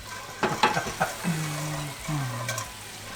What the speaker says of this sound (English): So now we get our whisk. We start deglazing.